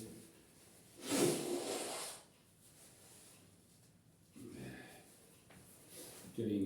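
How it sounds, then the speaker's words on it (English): A loud, breathy nose blow lasting about a second, followed by quieter snuffling and rustling, with a brief sniff near the end. "Just blow my nose here."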